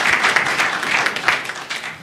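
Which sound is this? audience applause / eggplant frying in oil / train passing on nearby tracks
audience applause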